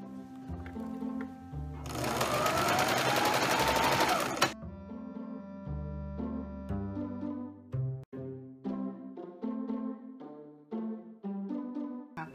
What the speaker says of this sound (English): I'm gonna move to a zigzag stitch